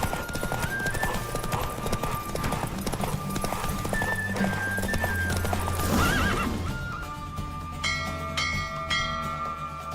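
A horse gallops in a race in the Witcher 3 video game, rapid clip-clop hoofbeats with whinnies and bell-like chimes, loud and continuous, ending in a ringing tonal flourish.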